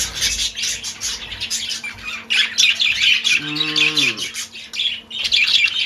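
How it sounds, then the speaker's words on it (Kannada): Pet birds kept in breeding boxes chirp and squawk loudly nearby, a busy overlapping stream of sharp tweets with one longer, wavering call partway through, and no talking. "ಇವಾಗ ಬರ್ಡ್ಸೇ ತೋರಿಸ್ತಾ ಇದ್ದೀನಿ"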